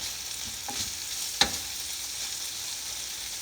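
Shrimp frying in a pan during a quick home meal, a steady soft sizzle with a few faint stirring scrapes and one sharp pop, close and alone without talk.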